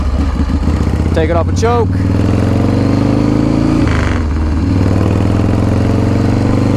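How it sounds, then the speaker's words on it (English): A custom motorcycle engine idles steadily and loudly up close, its dry clutch adding a rattly, chattering texture, while someone speaks briefly over it near the start. "if you hear that kind of like slicing, like chattery type of noise, that would be the dry clutch"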